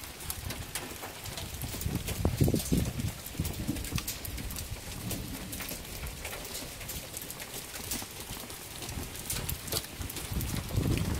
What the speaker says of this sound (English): Got some rain out in the desert here.